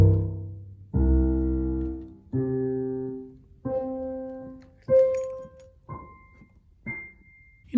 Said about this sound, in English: If I was to play all of the C's on the piano, it would sound like this.